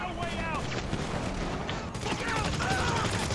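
Rapid video-game gunfire crackles in dense bursts through the whole stretch, fairly loud and continuous, with excited voices shouting over the shots.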